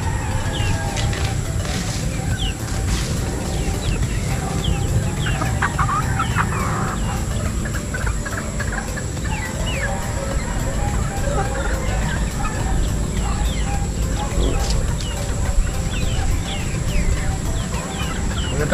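Many chickens cluck and chatter continuously in a poultry house, a busy flock sound over steady background noise, with no clear talking.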